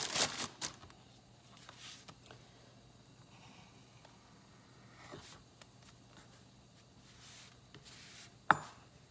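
A knife slices through Mission flour tortillas to make chips, giving soft, sparse cutting and rustling sounds, with a sharper chop near the end.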